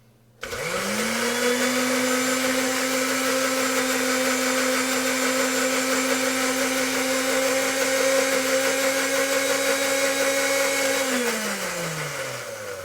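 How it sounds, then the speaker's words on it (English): A blender blending a chocolate milkshake starts up and runs at a steady, loud whir for several seconds, its motor pitch holding constant before slowing as it shuts off. "I think we could use good old-fashioned blender on here"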